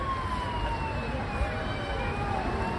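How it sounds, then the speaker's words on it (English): A siren wails steadily at moderate distance, its tone sliding slowly downward, over a low rumbling background with faint murmuring. "apart from the siren that you can hear from your left side"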